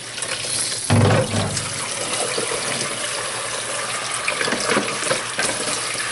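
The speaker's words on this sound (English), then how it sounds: "Get some more water in there." Water runs steadily from a tap into a plastic jug, a continuous splashing rush with a brief louder gush near the start.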